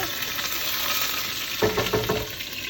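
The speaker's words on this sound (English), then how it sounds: "And then you put in your curry leaves, which will always, as you can see, flutter" Curry leaves crackle and sputter in hot oil with a steady frying hiss, and a few sharp stirring scrapes come through near the end.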